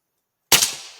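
A single sharp shot from a tuned Gamo Urban air rifle, a crisp crack that decays over about half a second after silence, fired at a 100-yard target.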